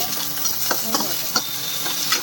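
Chopped tomatoes going into a pan of browned onions frying on the stove, giving a close, steady sizzle with several sharp stirring scrapes of a spoon at irregular intervals.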